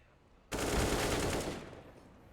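A loud sustained burst of automatic gunfire in Counter-Strike, fired through a wall on the Overpass map, erupts suddenly after a quiet start and rattles for about a second before tapering off.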